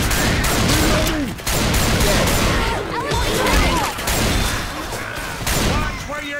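Rapid bursts of gunfire in Left 4 Dead 2 during The Passing campaign on Expert, dense overlapping shots with crashing impacts, loud and close, with game voices calling out over the shooting.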